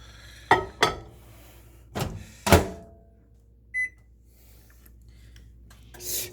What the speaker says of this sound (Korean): 거의 그 10년 넘은 전자레인지예요.